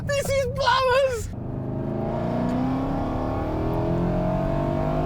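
A supercharged car accelerating hard, with the engine note climbing steadily and loudly in rising harmonic sweeps after a brief burst of excited talk at the start.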